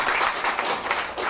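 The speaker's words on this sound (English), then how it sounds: "Give yourselves a round of applause" Audience applause at Gotham Comedy Club, a short burst of dense clapping with uneven swells, fairly close and loud.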